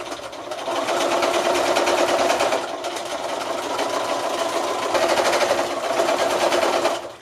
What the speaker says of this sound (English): You can see I'm sewing over pins here.